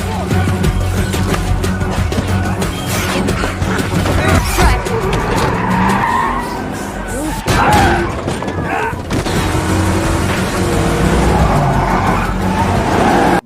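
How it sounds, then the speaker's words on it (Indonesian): A car speeds away from a spot at night, with engine roar and prolonged tire squeals and skidding that stay loud and continuous throughout, dense and close, with some faint voices mixed in. "Lantas Benny pun segera membawa lari mobilnya menjauhi tempat tersebut."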